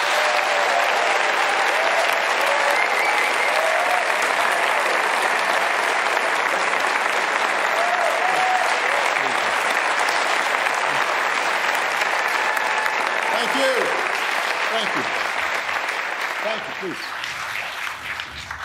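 A large audience in Copenhagen applauds steadily as President Obama walks on stage at a town hall event, a loud, dense wash of clapping that holds throughout and fades slightly near the end.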